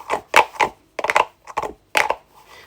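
A giant crumple fidget toy is pulled apart and pushed back together, giving a handful of quick crackly bursts in a loose rhythm with brief gaps between them, close and fairly quiet.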